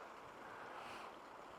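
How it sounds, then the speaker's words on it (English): Water running through a pipe outdoors, a steady broadband rushing wash with no breaks, fairly loud and close, with some wind-like rumble beneath. "It's kind of cool, though, hearing the water run."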